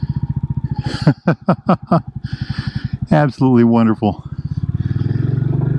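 A Royal Enfield Bullet 350 single-cylinder motorcycle thumps along in a steady pulsing beat while riding, loud and close, with someone talking over it in the middle of the ride.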